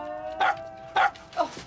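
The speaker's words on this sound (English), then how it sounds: "Now, she is a good dog." A dog barks three times in short, evenly spaced yips, close and fairly loud, in a live-action children's programme with no talk over the barks.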